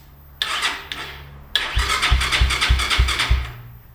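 Apollo 250 RX motorcycle turned over on its electric starter with the fuel off, two short whirs followed by a longer cranking run of rhythmic chugging compression pulses that never catches, heard close up.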